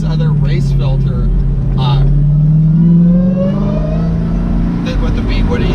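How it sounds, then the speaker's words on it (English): A supercharged 2017 Dodge Challenger Hellcat V8 revs up loudly, its rising whine climbing over the steady engine roar, with people talking over it. "that supercharger sounds so loud now"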